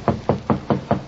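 Five evenly spaced knocks on a door, sharp and close, in a quick steady rhythm with nothing else heard.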